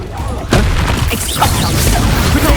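Sudden deep boom of a Confringo spell blast in Hogwarts Legacy, a sharp burst followed by rumbling crackle and debris, with a voice talking over it.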